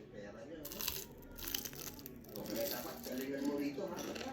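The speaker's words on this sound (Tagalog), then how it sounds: "Narinig niyo po yun kung gaano ka-crunchy yung una kong kagat?" A crunchy first bite into freshly fried turon with a sticky rice filling gives close crackling and crushing textures, followed by squishy chewing while a voice speaks over it.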